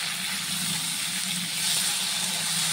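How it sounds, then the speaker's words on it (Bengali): Chopped tomato sizzling in hot oil with two whole dried red chillies and radhuni seeds, a steady close frying hiss that swells slightly partway through, with no voices. "টমেটোটাকে দিয়ে একটু নেড়ে ছেড়ে নেব"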